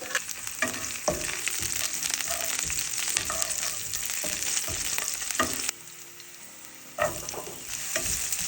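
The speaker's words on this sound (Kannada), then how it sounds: "ಒಂದು ಪ್ಯಾನ್ನಲ್ಲಿ 1-2 ಸ್ಪೂನ್ ಆಯಿಲ್ ಹಾಕಿ ಕಾದ ಮೇಲೆ ಇದಕ್ಕೆ ಜೀರಿಗೆ, ಹೆಚ್ಚಿರೋ ಬೆಳ್ಳುಳ್ಳಿ ಮತ್ತು ಹಸಿರು ಮೆಣಸಿನ್ಕಾಯಿನ ಹಾಕಿ ಸ್ವಲ್ಪ ಬಾಡಿಸ್ಕೋಬೇಕು." Cumin, chopped garlic and green chillies sizzle steadily in hot oil in a pan, a continuous bright frying hiss broken by sharp stirring clatters, briefly quieter midway before the sizzle surges back.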